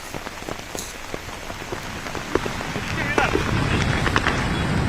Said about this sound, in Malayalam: അല്പസമയം മുമ്പാണ് ശക്തമായ മഴ വീണ്ടും തിരുവനന്തപുരത്ത് ആരംഭിച്ചിരിക്കുന്നത്.